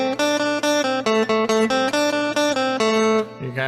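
A surf rock riff, played as quick, punchy picked notes in a bouncing repeated pattern, bright and close, with no talking.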